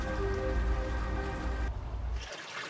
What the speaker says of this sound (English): At least the rain is washing away most of the smell.